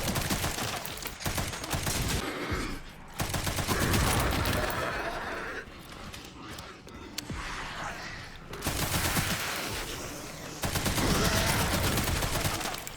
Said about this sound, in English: God, the machine gun is horrible.